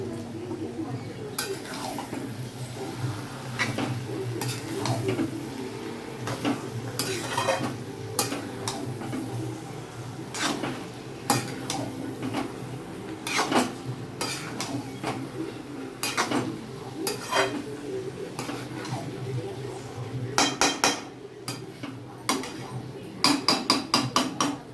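Sona moong dal dry-roasting in a pan at home, with repeated metallic scrapes, clinks and taps of a utensil against the pan over a steady low hum, and faint voices now and then in the background.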